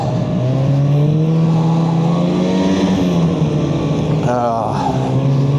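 A Freeride 800 snowmobile engine runs loud and close in winter, holding a steady drone that rises slightly in pitch around the middle and then drops back, with a brief burst of extra revving near the end.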